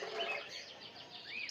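Canaries singing among caged birds at the Madalena ornamental bird and fish market, quick faint chirps and rising whistled trills close together over a quiet background.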